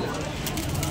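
Pigeons coo amid the dense crowd din of a large wholesale pigeon market in Garia, Kolkata, with voices mixed into the steady busy background.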